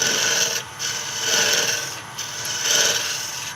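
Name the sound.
parting tool edge scraping a wooden top shaft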